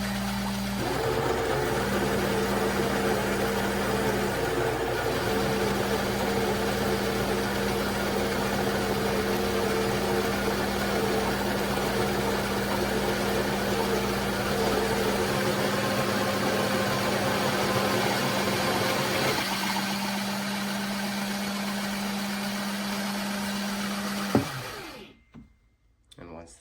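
A Breville Oracle Jet espresso machine in brushed stainless steel runs its built-in grinder automatically, a loud steady whirring drone for about twenty-four seconds that shifts pitch partway through, then cuts off abruptly.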